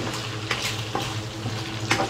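Hot cooking oil sizzles and crackles in a frying pan, a steady close hiss broken by a few sharper spatters, with no talking.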